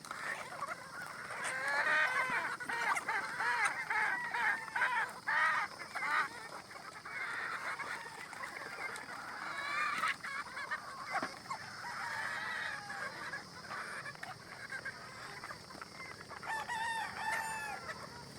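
On a game farm, several roosters crow one after another, near and loud, over a steady bed of clucking chickens and other fowl.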